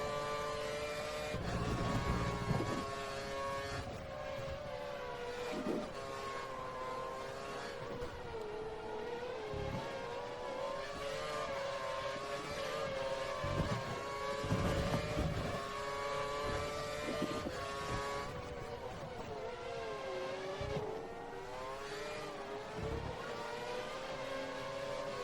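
A Formula 1 race car engine roaring through a hot lap in the F1 2013 video game at the China circuit, high-pitched and continuous, rising and falling with gear shifts and revving through corners.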